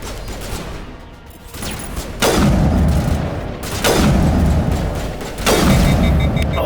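Three heavy sniper rifle shots crack out in Mass Effect, evenly spaced about a second and a half apart, each a loud, sharp blast with a booming tail that rings out before the next.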